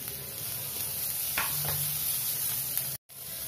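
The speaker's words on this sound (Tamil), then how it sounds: "வெங்காயம் வதங்கினதும் நம்ம துருவி எடுத்துருக்க கேரட் சேர்த்து லைட்டாக ஒரு வதக்கு வதக்கி எடுத்துக்கலாம்" Chopped onion and grated carrot sauté in butter in a pan, giving a soft, steady sizzle with a few brief stirring scrapes, close by and moderately quiet, with no talking.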